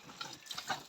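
Cold spring water being fetched, a close splashing and trickling of water filling a container, with small drips and gurgles, no talk.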